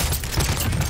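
Rapid automatic gunfire in the video game Warzone, a dense, continuous burst of loud shots lasting about a second with no talking.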